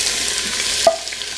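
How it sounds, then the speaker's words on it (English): Onions sautéing in a hot pressure cooker on its sauté setting, a brief steady hiss of sizzling with one soft stirring knock midway, close and fairly loud. "So we want to saute our onions first."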